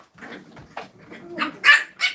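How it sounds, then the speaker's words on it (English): Several French bulldogs bark and yip in a rowdy, overlapping burst, short sharp barks building louder toward the end, close by and without talk. "Imagine 8 Frenchies all barking and playing at the same time."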